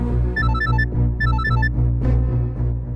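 A phone plays a repeating electronic melodic ringtone in two bright phrases over a steady musical background, loud and close, with no talking during the ring.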